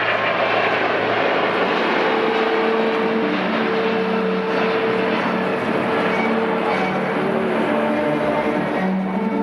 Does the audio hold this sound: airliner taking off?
yes